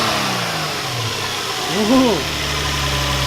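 An Infiniti G35 engine fitted with a budget aftermarket intake blips once in a short throaty rev over a steady idle, close and loud, with a brief exclamation from someone nearby.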